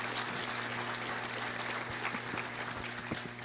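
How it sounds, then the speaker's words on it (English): Audience at a Little Rock Touchdown Club luncheon applauds honorees, a steady wash of clapping at moderate volume with distinct individual claps over a low electrical hum. "let's give them a big round of applause, all those honorees"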